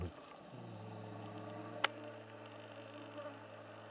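A person's voice imitating mosquitoes buzzing, a steady nasal drone held for several seconds, close and alone, with one sharp click partway through.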